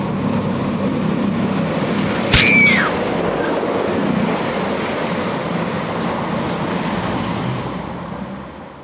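A freight train barrels past on the tracks at close range, a loud steady rumbling roar with a sharp metallic squeal early on, fading slightly toward the end.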